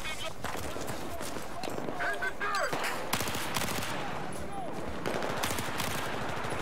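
Gunfire in a Battlefield 4 combat scene crackles in rapid bursts of automatic fire and scattered shots, mixed with game effects and someone talking over the action.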